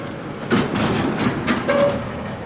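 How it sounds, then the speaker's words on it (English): A vintage traction elevator door operator runs in a short burst of rattling, clattering mechanical movement with a brief squeal, close and moderately loud. "Let's check out this door operator real fast."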